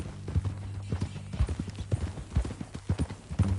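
Horse hooves clip-clop at a walking pace in the video game Red Dead Redemption 2, a close, steady run of hoof strikes on hard ground with a faint background hum.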